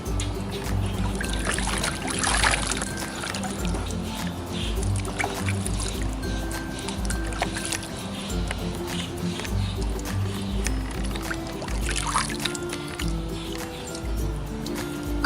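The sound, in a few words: water splashing and dripping in toy water table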